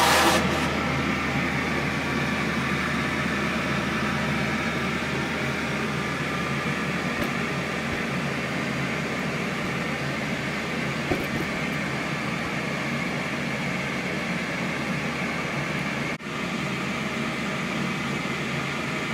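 A Metcal BVX 105 fume extractor runs with suction, giving a steady even whoosh of moving air under a low fan hum that stays unchanged for the whole stretch.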